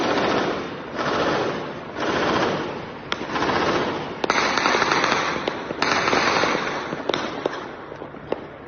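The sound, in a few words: intense automatic rifle fire in news footage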